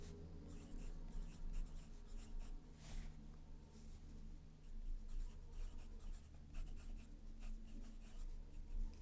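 A fountain pen with a ground nib scratches across paper in short, repeated strokes of printing and cursive. The scratching is close, quiet and steady, with no voices.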